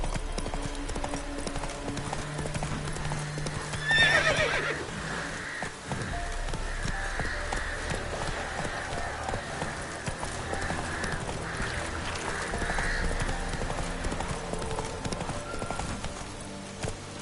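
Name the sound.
horse Roach galloping in The Witcher 3 video game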